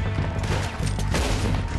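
Dense gunfire from a Red Dead Redemption 2 shootout, loud overlapping shots and reports filling the short moment without pause.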